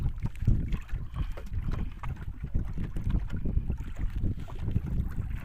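A fishing boat engine runs at full throttle while out catching snapper at sea, a steady loud low drone with wind buffeting and water rushing past the hull throughout.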